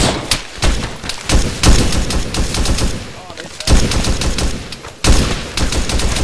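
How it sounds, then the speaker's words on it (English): Heavy gunfire in a military video game: dense, loud automatic bursts and rapid single shots crackling almost without a break, with a few deeper booms among them. "we're getting shot at"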